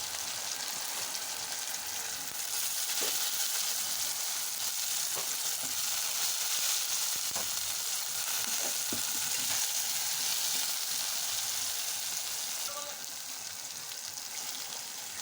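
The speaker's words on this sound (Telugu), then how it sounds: "కొద్దిసేపు నూనెలో బాగా వేగనియాలి" Bitter gourd pieces frying in oil hiss in a steady, even sizzle, with a few soft pops and stirring knocks scattered through it.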